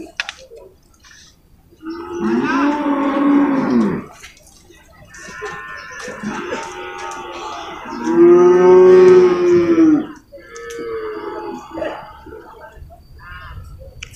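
Cattle, including imported and Peranakan Ongole breeds, moo repeatedly at a livestock market in Purwakarta, several long, loud bellows rising over a busy background murmur.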